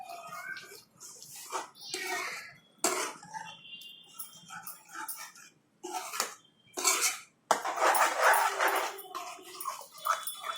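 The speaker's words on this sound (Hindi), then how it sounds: "इसको अच्छे से मिक्स कर देते हैं।" Spinach curry (palak saag) is stirred in a cooking pot, with irregular bursts of a utensil clattering and scraping against the metal, separated by short pauses, close and fairly loud.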